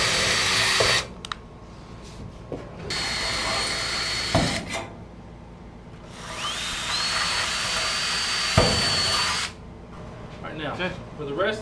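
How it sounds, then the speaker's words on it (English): A power drill with a 13/64 bit whines in several bursts pre-drilling holes for a Polaris utility vehicle rack, close and loud, separated by short pauses with quieter handling noise between them. "it's very critical that you use a 13/64 bit to pre-drill our holes"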